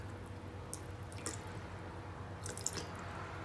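Water poured into a bowl while mixing a vegan tofu dressing, a soft continuous trickle with a few brief splashy drips, close and fairly quiet over low room hum.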